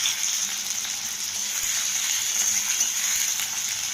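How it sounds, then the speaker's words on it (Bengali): Onions sizzle in hot oil in a pan for a mutton dish, a steady, bright frying hiss with small crackles, close and continuous with no talking. "তেল গরম হতে দিয়েছি, তেলের মধ্যে পেঁয়াজ দিয়ে দেবো। পেঁয়াজ সব দিয়ে দিলাম।"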